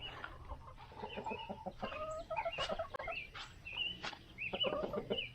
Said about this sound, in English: So here's a big chicken coop.